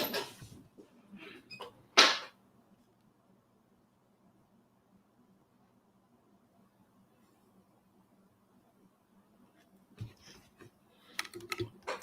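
Computer keyboard typing comes in two quick bursts of clicks near the start, then near-silence over a low hum, then another cluster of keystrokes toward the end.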